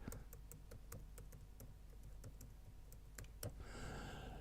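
Rapid, close keystrokes tapped on a computer keyboard while entering a web address, a steady run of crisp clicks with short pauses, ending in a brief burst of hiss.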